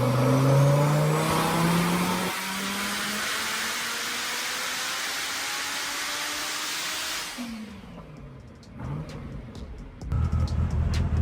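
A 2000 hp Dodge Viper with a stick shift roars on a dyno, its engine screaming at high revs for several seconds before cutting off into uneven pops and bursts of mechanical noise.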